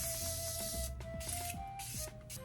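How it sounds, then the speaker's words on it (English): Makeup setting spray hisses from a pump bottle in short bursts, several quick close sprays in a row with brief pauses between them, with a faint steady hum underneath and no talking. "It feels nice when I spray it on my face."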